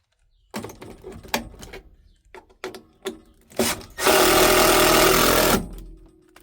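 A power driver whirs loudly and steadily for about a second and a half driving in a screw while installing a solar charge controller, preceded by sharp knocks and handling clatter close by.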